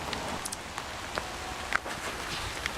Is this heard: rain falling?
yes